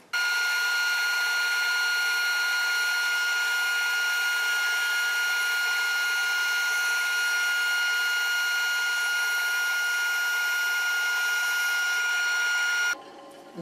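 A saw rip-cuts a thin strip from a long board taped to a sled's sacrificial fence, giving a steady, loud, high whine that holds for about thirteen seconds before it stops abruptly.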